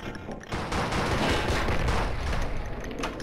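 Sustained rapid gunfire from a shooter video game, a dense continuous barrage of shots that stays loud throughout.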